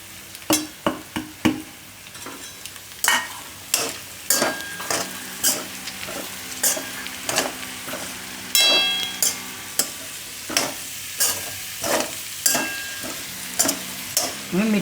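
Green chillies and onion fry in hot oil under a continuous sizzle, while a spatula strikes and scrapes the pan in a quick, regular rhythm of sharp knocks over about fifteen seconds.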